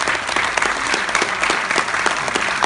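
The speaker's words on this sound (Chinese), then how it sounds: "我们把掌声送给他" Audience at a choir concert breaking into loud, sustained applause, a dense wash of many hands clapping at close range throughout.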